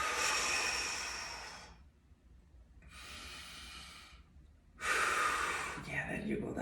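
Deep, heavy breathing during a solar plexus chakra workout: three long, loud breaths, each lasting one to two seconds with short pauses between, close and on their own.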